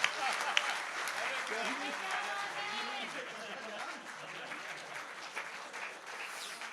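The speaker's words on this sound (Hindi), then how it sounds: "अरे तालियां बजा दो भाई" Audience applause breaks out at a Hindi comic poetry recital, a dense wash of clapping from a crowd that holds steady for several seconds, with a voice speaking over it.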